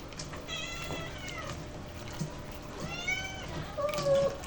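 Domestic cat meowing repeatedly and insistently, several drawn-out, wavering cries close by, with a person speaking softly between them.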